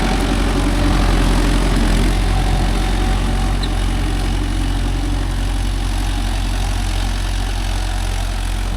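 A Mahindra Yuvo Tech Plus 585 4WD tractor engine pulling a 5-point cultivator through a field, giving a loud, steady, low diesel rumble that continues unbroken throughout.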